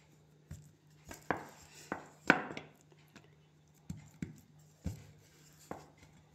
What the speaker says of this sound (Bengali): এইবার আমি বেলে নেব, নিমকির মতো করে বেলে নেব।